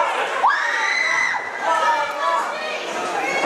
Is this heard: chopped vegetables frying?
no